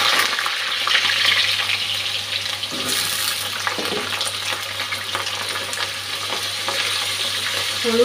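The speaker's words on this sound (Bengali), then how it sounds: "নুন হলুদ ছাড়াই ভেজে নিচ্ছি।" Chicken pieces frying in a pan without salt or turmeric, ahead of a curry, give off a continuous close sizzle with a low steady hum underneath and occasional watery splutters.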